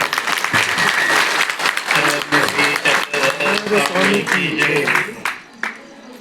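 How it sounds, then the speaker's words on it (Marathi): Loud, dense applause from an audience at the closing ceremony of a pilgrimage foot procession, sustained for several seconds before tapering off, with a voice speaking over it. "तर पुन्हा एकदा टाळ्या वाजून"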